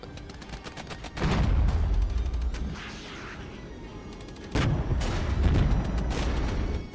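Chieftain tanks in the video game Regiments firing on T-64s at close range: heavy cannon booms and explosions rumble in two big bursts, with scattered sharp gunfire crackling between them; no talk.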